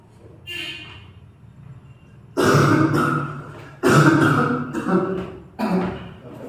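Several harsh, loud coughs in separate bursts, close to the mic, with quieter murmuring in between.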